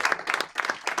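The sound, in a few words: audience applause for women in technology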